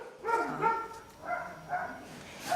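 A dog gives a few short, faint barks and yips, four or five quick bursts spread over a couple of seconds against a quiet background.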